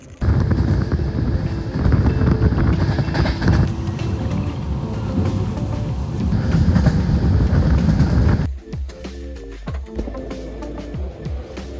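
A passenger train rolls along its rails in a loud, steady rumble with clickety-clack rhythm heard from inside the car, then it drops abruptly to a quieter, more rattling interior sound near the end, with no talk.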